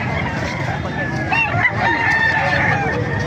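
Chickens cluck and a rooster crows amid busy outdoor chatter among gamefowl in Calumpit, Bulacan, the calls overlapping and fairly loud.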